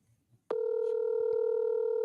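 A phone call sounds as a steady, unbroken electronic tone that begins abruptly after a moment of faint murmuring, continuing loud and close with a couple of small clicks and going unanswered.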